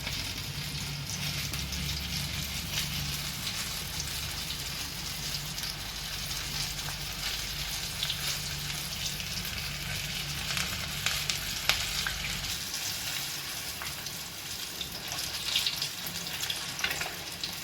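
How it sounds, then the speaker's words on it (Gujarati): Chili fritters (pati marcha bhajiya) fry in hot oil with a dense, continuous sizzle and a low bubbling rumble underneath that fades partway through. "એક એક આ રીતે આપણે એક એક મૂકી દઈશું તેલમાં, છૂટી છૂટી, અને આ રીતે આપણે તળી લઈશું."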